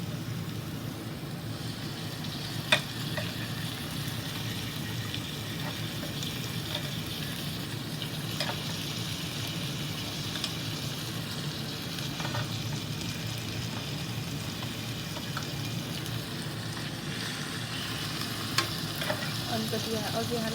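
Tomatoes fry in a pan for an asparagus gravy, giving a steady, dense sizzle throughout with occasional faint clicks of stirring, close and continuous.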